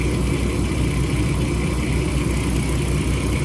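An Audi TT mk2 with the 3.2L engine idles steadily during a coolant change, a constant low rumble running unbroken and close for the whole stretch.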